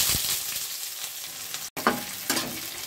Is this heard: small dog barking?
no